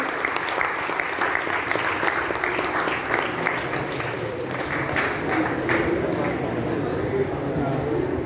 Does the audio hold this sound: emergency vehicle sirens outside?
no